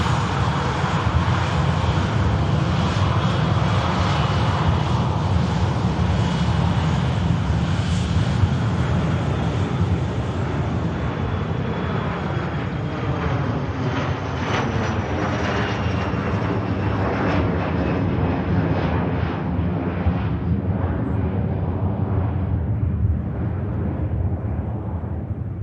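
A Loganair airplane taking off at Manchester Airport: a loud, sustained engine roar with a rising then gradually falling whine, the sound thinning and fading slightly as the aircraft climbs away.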